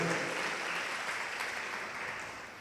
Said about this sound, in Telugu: గట్టిగా చప్పట్లు కొట్టి గట్టిగా దేవుని మహిమ పరుద్దాం.